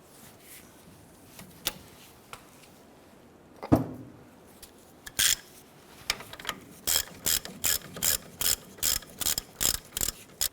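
A hand ratchet loosening a caliper bracket bolt on a 1993-1997 Ford Ranger during front wheel bearing work: a few scattered clicks and a knock, then a steady run of short, crisp ratcheting bursts in even rhythm, close by.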